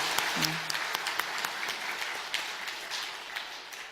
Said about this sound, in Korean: 하나님께 영광과 감사의 박수를 올려드립시다